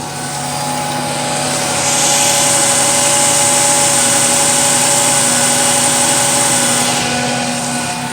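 A 2001 Ford Ranger engine runs smoothly after a coil pack replacement, a loud, steady, even hum that swells slightly in the middle and holds without misses.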